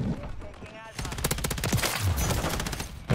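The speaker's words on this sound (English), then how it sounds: "That's my teammate shooting." Rapid machine gun fire from a teammate in the video game Modern Warfare 3, a dense, loud burst of repeated shots starting after a brief lead-in and continuing to the end, with a voice partly under it.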